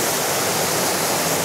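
The Edelfrauengrab waterfall and the river below it make a steady, loud, broadband rush of falling water that fills the whole moment with no pauses. No voices can be heard.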